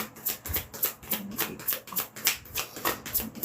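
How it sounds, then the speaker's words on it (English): Tarot cards are riffled and shuffled by hand in quick, rhythmic bursts of crisp papery flutter, close and steady, with no talk over them. "One more shuffle."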